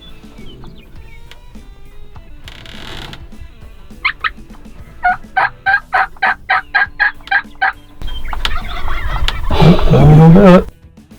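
Wild turkey toms on a river bluff beside a road gobble loudly in a burst of rapid, evenly spaced calls, followed by a longer, louder gobbling chorus nearby.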